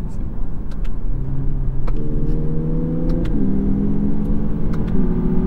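Inside a 2022 Lexus UX with a CVT, the engine note hums loudly and steps to a new pitch several times as the paddles downshift, with cabin rumble throughout.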